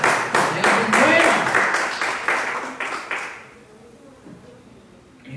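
A church congregation claps in quick rhythmic unison for about three seconds during a Spanish-language service, then the clapping stops and the room falls quiet with faint murmurs.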